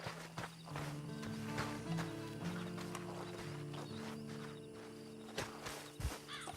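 Horse hooves walking in the Western video game Red Dead Redemption 2, a soft uneven clip-clop of steps over a low ambient game hum, quiet and moderately close.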